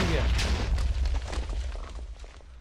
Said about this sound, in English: His last sound was a hiss that he sung, followed by an enormous bang!